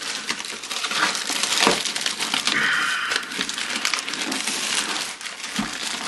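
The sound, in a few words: unwrapping recycled paper packaging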